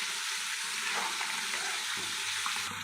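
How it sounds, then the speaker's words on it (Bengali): Water is poured into a meat curry cooked with mango in a pan, giving a steady rushing pour over a low simmering sizzle that runs the whole time at moderate loudness. "এবার আমি জল দিয়ে দিলাম, খুব বেশি জল দেবো না, অল্পই জল দেবো"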